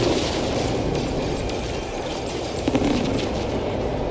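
Anti-freighter torpedoes blowing up in a space battle in No Man's Sky, a dense, continuous rumble of explosions with a slightly louder burst near the end, no talking.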